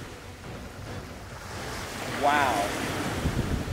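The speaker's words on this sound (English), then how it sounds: "The wind's picking up." Wind gusting across an open beach on a Survivor island, with surf washing underneath; a steady broadband rush that swells louder midway, while a voice briefly speaks over it.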